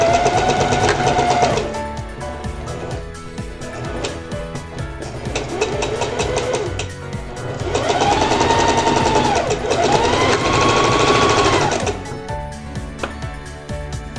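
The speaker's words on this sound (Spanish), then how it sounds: "Vamos a coser a 1 centímetro ahora nuestra pieza y pasamos ahora nuestra costura a 1 centímetro por la línea del hombro." A sewing machine stitches a blouse shoulder seam at 1 cm, its motor whirring steadily in close, loud runs that speed up and slow down, with brief pauses between bursts.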